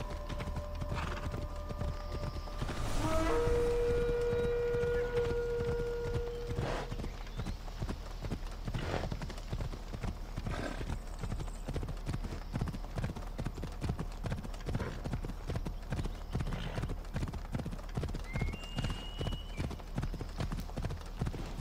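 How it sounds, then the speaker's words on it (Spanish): A horse gallops steadily in Assassin's Creed Odyssey, close, quick rhythmic hoofbeats running throughout with a whinny early on, faint game sounds around it. "Tenemos aquí el caballo."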